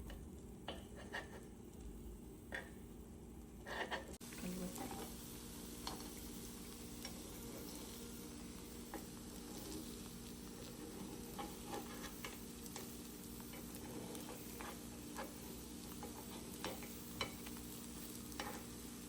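Moong dal appe frying steadily in an appe pan, a continuous soft sizzle with faint clicks and light stirring scrapes throughout, close and even in level, no voices.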